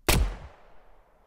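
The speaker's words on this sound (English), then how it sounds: "I'm going to increase the power so we get a very big cinematic gunshot" A big, cinematic gunshot sound effect built in Krotos Studio: one loud, sharp blast with a deep booming body that rolls off into a long, fading tail, with no voices.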